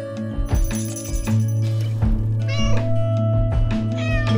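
Cartoon cats meow repeatedly in the Quilts and Cats of Calico quilting game, bright tonal mews over a sustained musical backdrop, several distinct calls spaced a second or so apart.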